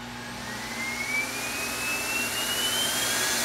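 A My Pet Command high-velocity pet dryer blower runs on its low setting, producing a loud, steady rushing whoosh with a thin whining tone that slowly rises in pitch, close to the listener.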